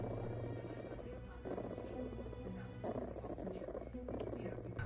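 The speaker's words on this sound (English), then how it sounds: "Look at the sweet little Marten doing the purrs." A marten purrs softly and continuously with a low, rumbling rhythm in short bursts, faint and close, and a voice speaks lightly in the background.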